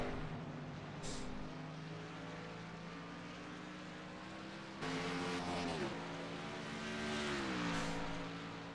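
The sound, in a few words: race car engine at The Glen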